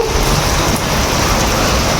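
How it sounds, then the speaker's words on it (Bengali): A heavy downpour pours down in a continuous loud, close hiss and patter, unbroken from start to finish, with a low rumble underneath and no one speaking. "এই দেখেন কি পরিমাণে বৃষ্টি পড়ছে।"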